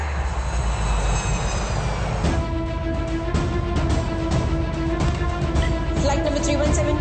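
A fixed-wing airplane roars loudly and steadily in a movie climax scene, a heavy continuous engine drone with shifting tonal whine and no talk over it.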